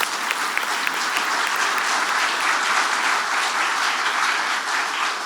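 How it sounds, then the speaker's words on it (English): Sustained, dense audience applause fills a Seattle University ethics and technology conference roundtable for its speakers, steady and loud from start to finish with no pause. "Let's please give our speakers a round of applause."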